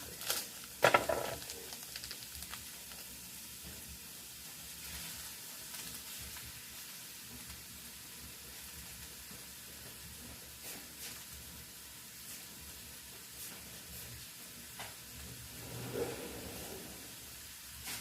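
Ground beef sizzles softly in a hot pot, a faint steady frying hiss with a few clanks and stirring bumps, no talking.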